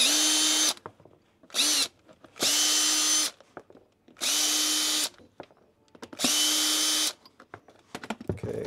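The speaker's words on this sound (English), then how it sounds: "I barely snug them up with the hand tool, or with the power driver" A power driver runs screws into ski boot soles in five loud, steady high-speed bursts of about a second each, separated by short pauses filled with small handling clicks and knocks; no one speaks.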